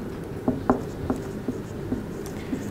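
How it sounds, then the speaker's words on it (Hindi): A marker or chalk writing on a board during a chemistry lecture: a steady faint scratch with short, regular taps and strokes about every half second, close by, with no talking. "मैं लिख लेता हूँ"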